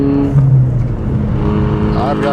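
Ford Mustang S550 EcoBoost Performance Pack drift car with a turbocharged four-cylinder engine, briefly revving nearby in a short burst with a rising pitch, under a man's speech.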